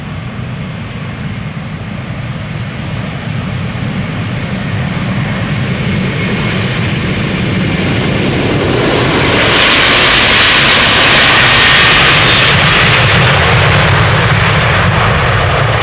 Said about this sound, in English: KLM A330 300, KLM flight 661, going to Houston in Texas.